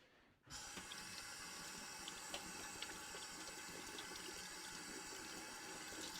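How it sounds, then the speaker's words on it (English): A metal part of a Stanley smoothing plane is rinsed under a running tap, producing a steady, close splashing rush of water that starts abruptly and continues without a break, with no voices. "I'm going to give it a quick rinse under the tap."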